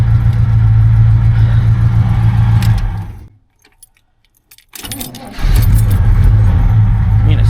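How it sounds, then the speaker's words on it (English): A 1971 Buick GS with a 350 engine, said to sound unhealthy, runs with a loud, close, rough idle. It cuts out into near silence, then keys jangle and the engine cranks and catches, settling back into a heavy idle. "it starts pretty much right up. It's just the engine itself doesn't quite sound like it's too healthy."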